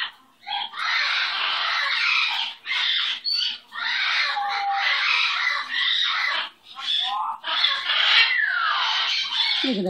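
A young pet bird squawks continuously, loud harsh screeching calls in long bursts with brief pauses, close by and with no voices over it.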